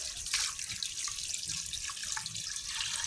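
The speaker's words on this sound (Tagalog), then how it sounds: "bubuhusan natin yung tubig" Water pours steadily into a pot for pork sinigang, a continuous splashing gush with faint drips, close and alone without talk.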